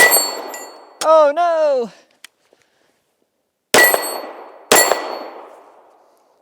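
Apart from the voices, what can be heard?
SIG P320 pistol dropped, clanging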